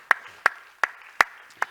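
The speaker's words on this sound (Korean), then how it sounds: "우리 뜨겁게 박수로 환영합니다" Five sharp hand claps in a steady, evenly spaced rhythm, close and clear with no voices, welcoming new members at a church service.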